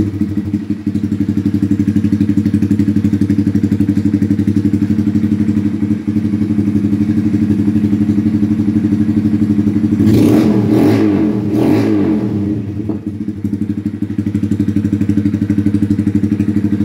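A Honda Grom motorcycle with a tuned exhaust and intake on a basic map idles loudly and close with a steady low burble, then gives three quick sharp revs before settling back to idle.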